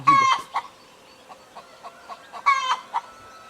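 Chickens cluck nearby, with a couple of loud squawking calls and a series of short soft clucks between them.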